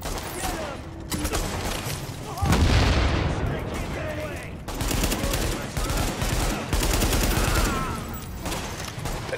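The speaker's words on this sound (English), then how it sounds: "Damn, this big gun does a lot of damage." Heavy gunfire from a big gun in Tom Clancy's The Division during a firefight at Madison Field Hospital, loud bursts and rapid shots layered with combat noise and talk throughout.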